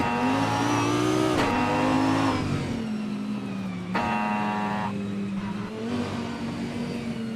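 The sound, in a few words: 2009 Mooncraft Shiden race car engine in racing video game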